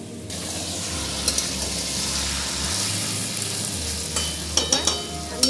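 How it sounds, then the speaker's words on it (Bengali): Chicken with black pepper and fresh tomato paste sautéing in a pan over a high gas flame, giving a steady close sizzle with scraping stir strokes and a few sharp spatula knocks near the end. "এবার আমি ভালো করে কষিয়ে নেব"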